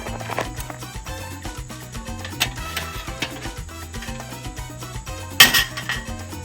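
A metal grill grate is lifted off a campsite fire pit, giving a few scattered metallic clanks and clinks, with one sharper clatter near the end, under steady background music.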